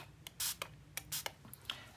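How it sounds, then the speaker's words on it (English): Quick bursts of a spray bottle misting water onto watercolor paints, several short hissing pumps in an uneven rhythm, close and fairly soft, with small clicks between them. "I'm just going to spray them."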